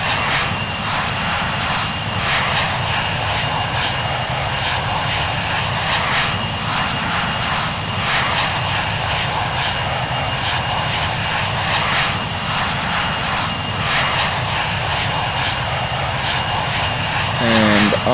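Cargo plane engines at full throttle in Infinite Flight Simulator, a loud continuous roar with a steady high whine, droning evenly throughout with a person talking over it.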